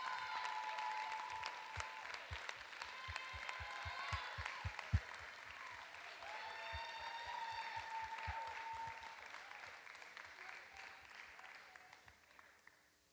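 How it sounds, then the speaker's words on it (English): An audience claps steadily, loud and sustained, with a brief burst of rhythmic clapping and faint voices underneath, tapering off toward the end. "a round of applause to all the winners"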